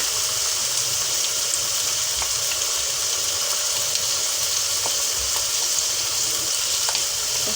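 Chopped tomatoes and green chillies sizzling in a pan with potatoes for spicy aloo katli, a steady hissing fry with scattered small pops throughout, close and continuous.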